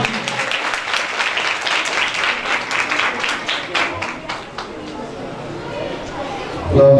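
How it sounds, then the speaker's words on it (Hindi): A church congregation claps loudly, the dense applause holding strong for several seconds before thinning out, with faint voices underneath and a brief bump of noise at the very end. "जोरदार तालियां।"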